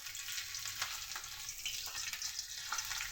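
Nigella seeds and green chillies sizzling in hot oil in a wok, a steady close crackle and hiss with small popping spikes throughout, no voices over it.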